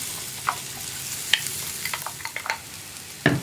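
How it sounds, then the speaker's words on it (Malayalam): Ground lentil paste is stirred in a frying pan over high flame for a capsicum usli, scattered scrapes and knocks of the spoon over a faint low sizzle, close by and without talk. "പരിപ്പ് ചേർത്തിട്ട് നന്നായിട്ടൊന്ന് ഇളക്കി മിക്സ് ചെയ്യാം."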